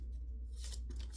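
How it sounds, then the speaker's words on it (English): A card pulled from a Magical Wisdom oracle deck makes a short, soft papery swish partway through, faint against a quiet room. "I would like to pull one card from the Magical Wisdom card deck."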